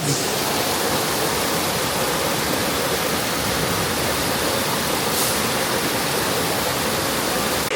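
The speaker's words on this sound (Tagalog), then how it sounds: "Malakas yung agos. Sobrang lakas, guys." Powerful rushing current of a clear, cold river near Pinlac Falls in Infanta, Quezon, a constant loud roar of churning water filling the whole clip without pause.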